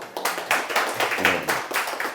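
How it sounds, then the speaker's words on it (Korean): A studio audience at a Korean economics lecture show claps for a couple of seconds, a modest round of hand claps close to the microphone with no talk over it. "박수 한번 드릴게요."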